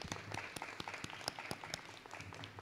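A room full of people claps together at a school gathering honoring a National Blue Ribbon School, crisp individual claps blending into a short, moderately loud round of applause.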